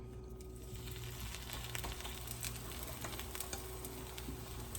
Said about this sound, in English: put this on my cast iron pan to hopefully seal it up a little